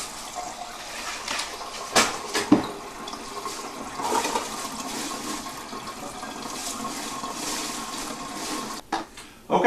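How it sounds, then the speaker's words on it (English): Running water pours steadily into a kitchen sink, a continuous rushing with a few clunks and splashes, then it briefly cuts off near the end. "So we're going to go ahead and fill up the sink."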